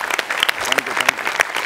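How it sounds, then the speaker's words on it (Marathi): Audience applause in a comedy show studio, a steady burst of many hands clapping throughout the short moment with no voice over it. "एकदा नमा आणि प्रसादसाठी जोरदार टाळ्या"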